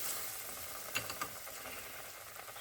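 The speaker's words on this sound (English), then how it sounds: "I'll start dropping these in to fry them" Pickle balls drop into hot deep-frying oil, giving a faint, continuous sizzle with a couple of brief louder crackles partway through, heard alone without voices.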